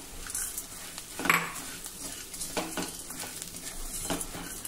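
Crushed sun-dried lentil dumplings roasting in hot oil with turmeric and red chili powder, giving a steady soft sizzle with scraping and stirring clatter from a spoon against the pan.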